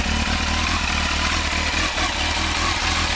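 A Kawasaki ZX12R motorcycle engine runs after a spark plug change, a loud, steady, close idle with a throbbing, rapid pulse that holds for the whole stretch.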